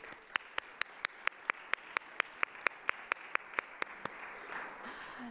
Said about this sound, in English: let's give all of those wonderful partners and sponsors a round of applause